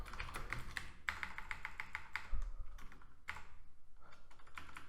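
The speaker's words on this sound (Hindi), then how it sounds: "तो मैं यहाँ पर लिख देता हूँ" Code typed on a computer keyboard during a JavaScript math-object lesson: steady bursts of close keystrokes in quick runs, with brief pauses between them, alone without talk.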